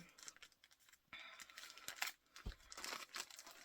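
Close crinkling and tearing of packaging, with rustling plastic and a few sharp rips, no talking, as a package of Funko collectibles is opened.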